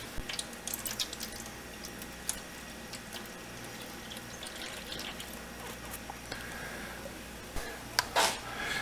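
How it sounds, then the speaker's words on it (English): Two cups of milk, a mix of 2% and 1% chocolate, poured into a container for rehydrating freeze-dried milk; a steady low liquid trickle runs throughout, with a louder splashing burst near the end. "and then pour it in. 2 cups in here"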